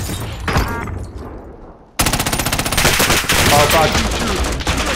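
Heavy automatic gunfire from a shooter video game, a dense rapid burst of loud shots that cuts in midway and continues to the end, with a brief exclaimed voice in the middle of it.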